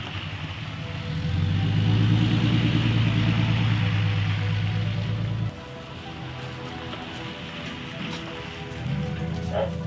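Trucks roll along a road damaged by pipeline construction, a loud rumbling drive that fades slightly, with a steady hiss like tyres on rough ground.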